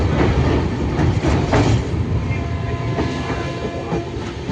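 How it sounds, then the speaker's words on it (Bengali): A late train rolls into platform 3 at Cuttack station, with a steady loud rumble of carriages, rhythmic wheel clatter and faint squealing throughout. "2 ঘন্টা ট্রেন লেট করে অবশেষে আমাদের কটকের 3 নম্বর প্ল্যাটফর্মে ট্রেনটা ঢুকিয়েছে"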